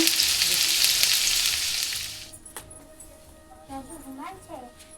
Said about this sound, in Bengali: ফোড়ন দিয়েছি একটু তেজপাতা আর গোটা জিরে আর কাঁচা লঙ্কা